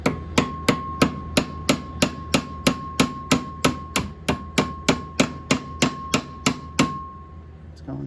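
A hammer taps a rivet down through a part of a Dearborn 12-88 planter with about fifteen evenly spaced, ringing metallic blows that are loud and close, then stop near the end.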